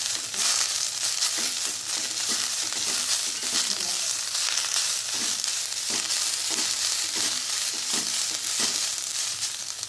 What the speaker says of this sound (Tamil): கருவேப்பிலை வதங்கினோடனே கொத்தமல்லியை போடுறோம்